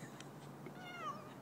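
Cat stuck up a tree gives one faint, distant meow with a rising then falling pitch, heard alone over quiet outdoor background.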